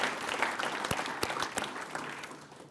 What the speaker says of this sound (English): Please give a round of applause to everyone here and to all our speakers this morning.